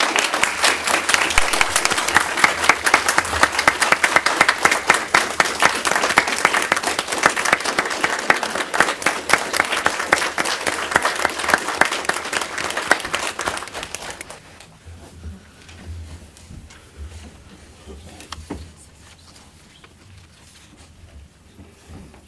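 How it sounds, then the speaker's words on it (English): Audience at a city meeting applauding police honorees, dense, steady clapping for about fourteen seconds that then quickly thins to a few scattered claps and quiet room noise. "Please give all these folks a round of applause for the work that they do."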